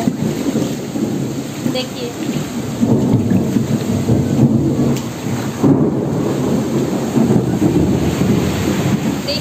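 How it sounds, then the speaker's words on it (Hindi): Heavy rain pours steadily while deep thunder rumbles roll through, with gusty wind; a person speaks briefly near the start. "बादल गरजने की आवाज़ कितनी ज़ोर ज़ोर से आ रही है।"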